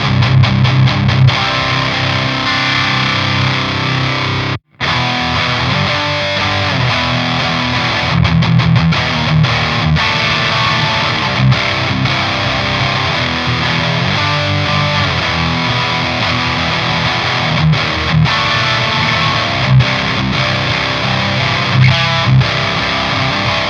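Heavily distorted electric guitar chords and riffs through a Thorn Soundlabs Magma distortion pedal, played continuously, with a brief full stop near the start before the crunchy, sustained tone resumes.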